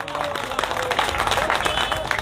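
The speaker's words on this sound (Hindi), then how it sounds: "शायद तालियां बज जानी चाहिए" Clapping rises from the crowd at a sit-in protest, a brief patter of applause with a voice still speaking over it, heard at moderate distance.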